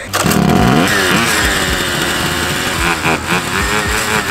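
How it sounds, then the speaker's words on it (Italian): Several motor scooter engines starting and revving together, loud buzzing two-stroke-like whine with rising and falling pitch, close and continuous throughout. "accendete i motori."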